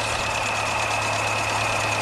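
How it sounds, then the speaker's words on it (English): A steady engine idles at about 570 rpm with a constant drone and a faint high whine, unbroken and fairly close. "Now at the moment we're running um, on idle at about um, 570 revs."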